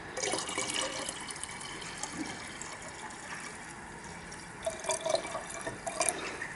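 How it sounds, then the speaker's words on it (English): Fresh nitric acid poured onto ceramic CPU pins for gold recovery, faint trickling and dripping liquid with a few small splashes, close and quiet, no voices. "I'll just add some more fresh nitric to get it going"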